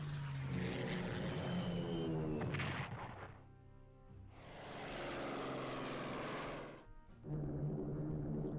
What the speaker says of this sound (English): Oh, these bombing runs do take pretty long.